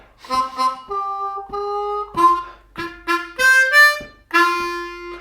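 A blues harmonica plays a lick, short breathy bent notes in a bouncing rhythm, close and fairly loud, unaccompanied.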